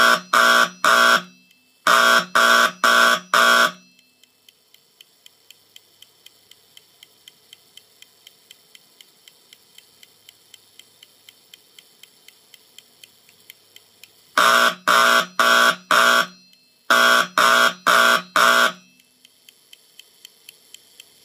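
A Simplex 4208 code wheel fire alarm sounds code 4-4 from an old 1960s–70s style system: loud buzzing bursts in groups of four, with a steady fast ticking from the wheel mechanism between the groups, repeating.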